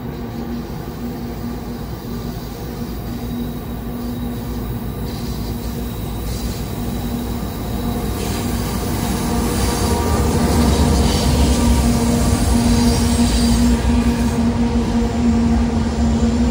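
The northbound M692 train rolls past on the rails, a loud continuous rumble with steady wheel noise and faint squeal that swells louder as the cars go by.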